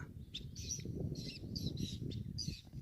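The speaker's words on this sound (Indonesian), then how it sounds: "Sekiranya burung ini sudah terlalu banyak di atas melayang-layang." Birds hovering above a vannamei shrimp pond give repeated short chirps and squawks at a moderate distance over a low outdoor rumble, with no talk.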